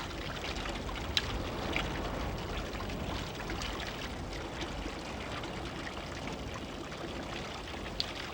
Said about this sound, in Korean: 어디선가 나는 물소리를 따라가다 마주친 곳, 백록샘이다.